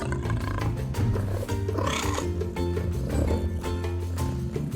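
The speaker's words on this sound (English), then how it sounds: "Lion." A lion roars loudly and close up, with deep, rumbling, repeated bursts that fill the whole moment without pause.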